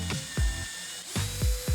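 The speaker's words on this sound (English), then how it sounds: "Make sure the track is level, then drill pilot holes through the screw holes" Power drill boring pilot holes through the screw holes of a pocket door track bracket, heard as a whining motor with several sharp, ratcheting bursts of clicks spaced about a second apart, close and fairly loud.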